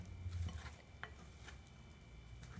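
Flour and oil being mixed into soft dough for cheese and Vegemite scrolls, giving quiet, irregular sticky scraping and stirring sounds with a few light clicks against the bowl, close and faint.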